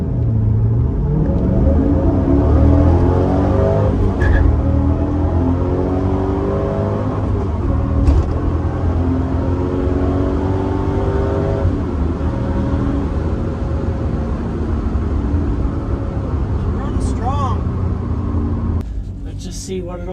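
A 2002 Pontiac Trans Am WS6, low-mileage, is pushed hard under acceleration, its loud engine rumbling and climbing through rising harmonics for about twenty seconds, with a brief lift near the end.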